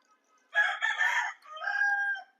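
A rooster crows once, close and clear, in a drawn-out call against an otherwise quiet background.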